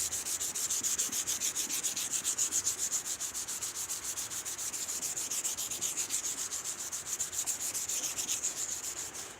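Wet sanding on truck paint makes a steady, rhythmic rubbing and hissing that runs continuously with fast even strokes, close and fairly loud, with no voices.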